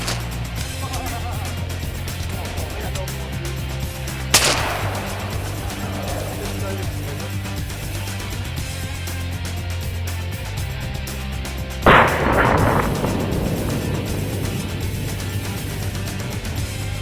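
Shotguns fire while hunting diving ducks, giving two loud, sharp blasts several seconds apart over steady engine or wind rumble outdoors, with people talking between them.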